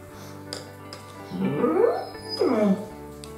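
A big pet dog named Simba whimpers indoors in two drawn-out, rising whines, close and fairly loud, with quiet room sound and no talking.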